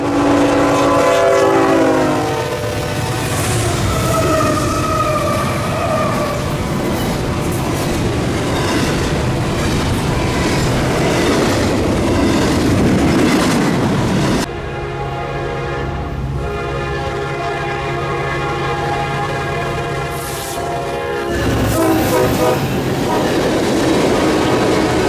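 A KCS double-stack freight train rolls past with continuous loud rumble and wheel noise, its horn blaring in long blasts early on and again near the end.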